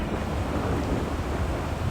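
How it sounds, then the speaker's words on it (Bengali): Strong wind buffeting the microphone at a river ferry ghat during a rising tide, a loud, dense, continuous low roar with no voices. "বাতাসের প্রচুর সাউন্ড এখানে"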